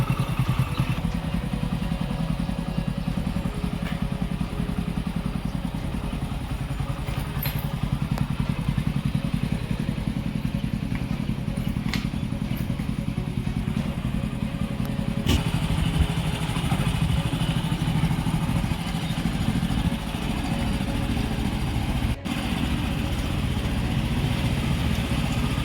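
A two-wheeler motorcycle engine with roughly 50,000–60,000 km on it runs steadily during a carbon-cleaning decarbonization service, a continuous low rumble and clatter held at an even level throughout, close to the microphone, with no talk.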